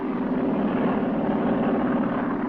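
Aircraft engine droning steadily overhead while flying over a mission, a continuous loud rumble with no breaks and no voices.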